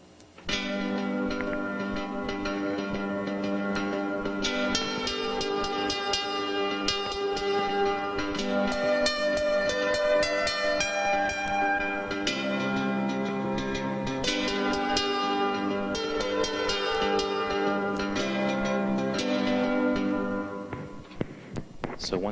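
Steel guitar melody from one piece played with repeated notes and fragments trimmed, set against the rhythm and accompaniment of another, a continuous, moderately loud ensemble passage with no talk.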